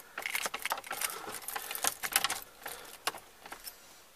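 Car keys jangle and click in a steady run of small metallic rattles while being pushed into the ignition of a Mazda B-Series or Ford Ranger pickup, close and moderately loud.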